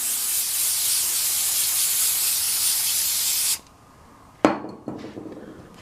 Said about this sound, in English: I'm going to put some brake clean on here.